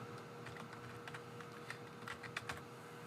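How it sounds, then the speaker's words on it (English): Soft, quick keystrokes on a computer keyboard while data is typed into an Excel entry form, with irregular clicks and a few sharper taps near the end, quiet and close with no talking. "and I can type in"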